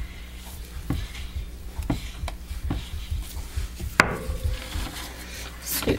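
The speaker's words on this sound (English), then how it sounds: "let's get my spatulas out of the way" Spatulas pushed aside on a table while making soap, a string of light knocks and scrapes with one sharper clack, close and fairly quiet.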